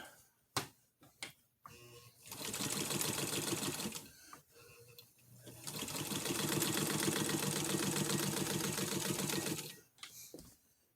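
Sewing machine stitching a worn, old sheet that is coming apart: two long, steady runs of rapid mechanical chatter, separated by short pauses filled with handling clicks and thumps.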